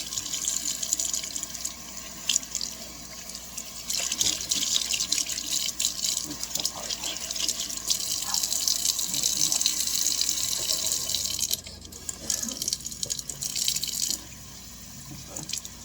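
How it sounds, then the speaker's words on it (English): Hot water runs from a kitchen tap for a quick rinse, a steady splashing stream into the sink with brief interruptions and a quieter flow near the end, no talk. "This is a quick rinse. Make it kind of hot."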